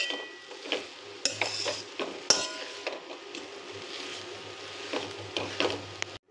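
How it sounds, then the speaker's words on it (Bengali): A vegetable chop mixture with chopped coriander being stirred and mixed in a pan, with repeated spatula scrapes and clinks over a low, faint sizzle and a soft background hum. "সব কিছুকে খুব ভালোভাবে মিশিয়ে নিতে হবে।"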